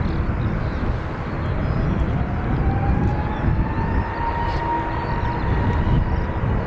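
A JetBlue airliner bound for Boston takes off from runway 28 right at Dublin Airport, a loud, steady jet roar with a rising whine filling the whole stretch close by.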